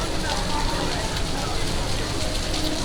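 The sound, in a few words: heavy rain falling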